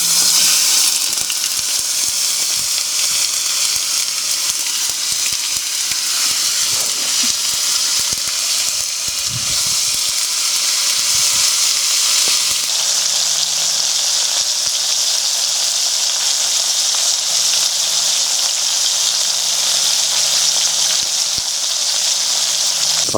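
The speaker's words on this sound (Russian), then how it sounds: "Так, сальце у нас готово на сковородочке. Пора отправлять туда помидорку." Pork fat and tomato fry in a pan over a campfire field kitchen by a river at night, giving a continuous close sizzle with scattered pops and crackles.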